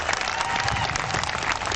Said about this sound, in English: another round of applause for our graduates here this evening